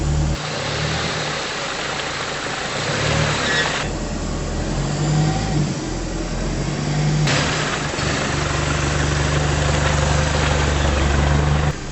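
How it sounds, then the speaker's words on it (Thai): Toyota Vigo 4x4 pickup engine churning through mud, a steady loud low rumble with vibration that swells and shifts in load as the truck pushes on, with no talk. "จะมาลองลุยโคลนดูนะครับ"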